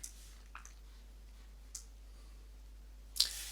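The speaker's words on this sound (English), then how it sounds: "I'm going to click on that" Computer mouse clicks, a few sharp isolated taps spaced apart over a quiet room hum, the last one louder and closer.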